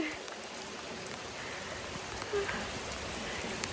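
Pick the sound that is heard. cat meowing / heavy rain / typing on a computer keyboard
heavy rain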